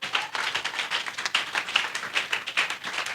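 A church congregation applauding, dense overlapping claps in an even, lively rhythm throughout, fairly close and without talk.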